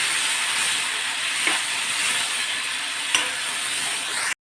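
Tomato-onion gravy is stirred into ginger-garlic-chilli paste frying in a pan for a peanut curry, with a steady close sizzle and hiss throughout and two faint clicks of the spoon, and no talking.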